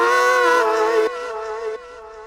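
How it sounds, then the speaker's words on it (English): Vocal stabs in a beat run through a delay effect, a sustained sung tone followed by fading echoing repeats that step down in level, heard alone. "If you add in a delay effect, it sounds like this."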